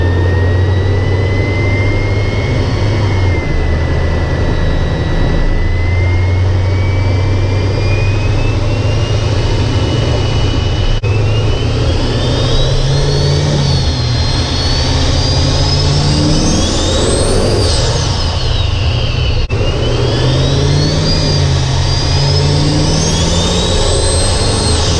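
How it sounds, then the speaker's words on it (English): High turbo whistle rising and falling over a loud, steady diesel truck engine roar, swelling as the engine revs up several times, close by. "They just want to hear whistling sounds from turbos."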